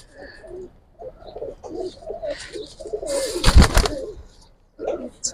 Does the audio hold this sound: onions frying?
no